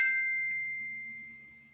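A phone gives a single clear notification ding, a bright tone that rings out and slowly fades over about two seconds in a quiet room.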